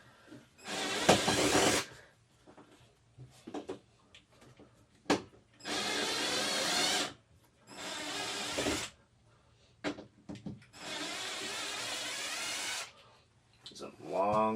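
Power drill driving screws into the wall of a camper being converted into a home, heard as several loud bursts of whirring a second or two long, separated by pauses of quieter handling noise.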